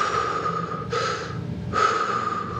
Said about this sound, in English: I'm going to breathe.